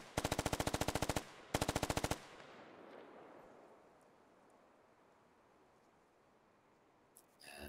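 Two rapid automatic gunfire bursts ring out loud and close in the military shooter Squad, the first about a second long and the second shorter after a brief pause, then trail into a long fading echo and quiet ambience.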